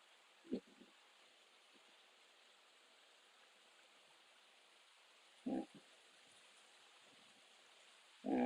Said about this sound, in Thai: ถือว่าน้ำไหลแน่นะครับน้ำไหลเชี่ยว